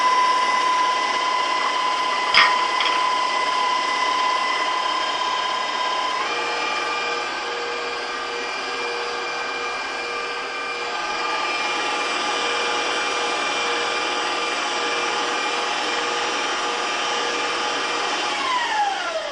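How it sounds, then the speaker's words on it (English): An electric mixer whirs steadily while beating cupcake batter, a constant motor hum that shifts pitch as the speed is turned down, with no voices. "Turning my mixer down on low so I can slowly add my flour mixture."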